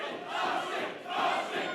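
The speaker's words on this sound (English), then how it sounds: "And the crowd now calling for Ashik" A fight-night crowd in a UK MMA arena chants for a fighter named Ashik, a dense, rhythmic roar of many voices swelling twice in waves.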